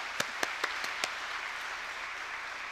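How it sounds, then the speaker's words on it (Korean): Church congregation at an autumn early-morning revival service applauding, a soft, distant wash of clapping with a few sharp, close claps standing out at the start. "우리 하나님께 영광의 박수 올려드리겠습니다"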